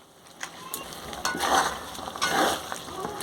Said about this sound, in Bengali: এবার হালকা আঁচে চিকেনটার সাথে মশলাটা কষিয়ে নেব ভালো করে।